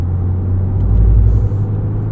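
A 2023 Porsche Cayenne S on a track in Sport Plus mode at Porsche Experience Center LA, with a low, steady engine drone and road rumble that swells briefly in the middle.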